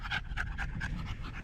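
A dog on a hike in Utah canyon country pants fast and rhythmically, about four breaths a second, loud and close over a low rumble of wind and ambient noise.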